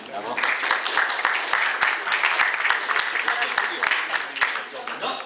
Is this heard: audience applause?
yes